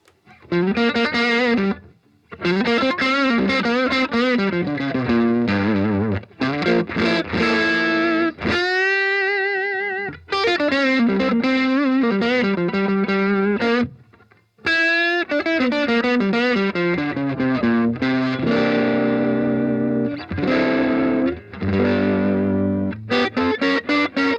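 Distorted electric guitar through a Roland Cube 80 modelling amp on its black-panel Fender-style model, gain at full, with a warm, crunchy tone playing chords and riffs, loud and continuous, with a few brief pauses between phrases.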